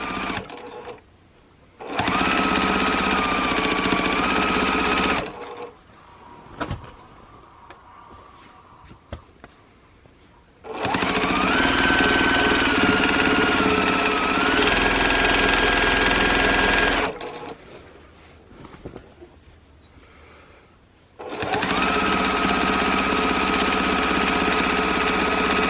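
Sewing machine stitching quilt binding around a curved corner, running in three long loud bursts of steady whirring, pitch shifting slightly with speed, separated by quiet pauses with small handling sounds, close by.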